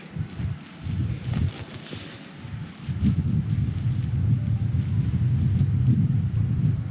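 Cold wind blowing outdoors on a rainy, muddy trail, a low buffeting rumble against the microphone that swells and stays strong, with no voices.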